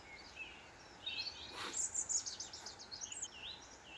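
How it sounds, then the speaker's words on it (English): Birds chirp and sing in the Welsh countryside, with a few quick high trills and short whistled phrases from more than one bird. They sound faint and somewhat distant against a quiet background. "To be woken up to the sound of birds singing."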